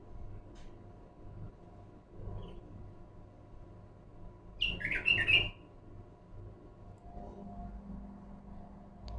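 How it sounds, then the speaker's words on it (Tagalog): A pet bird at home gives a short burst of chirps and squawks near the middle, loud and close, set against quiet household background hum. "Ito pang ibon namin."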